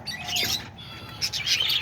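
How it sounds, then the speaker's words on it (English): Lovebirds in a cage give a quick run of bright, high chirps and tweets in bursts, near and fairly clear, with a faint wing flutter and no talking. "on the lovebirds over here, on this cage"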